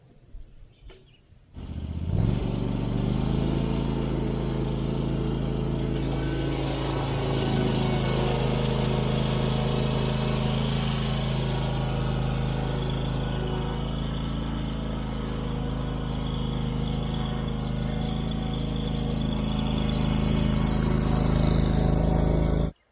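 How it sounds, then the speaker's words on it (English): A Cub Cadet Pro Z 972 SD zero-turn mower cuts through tall grass, its engine starting up after a brief quiet moment, then holding a loud, steady drone close by for the rest of the clip. "Cub Cadet, they advertise this as a slope mower"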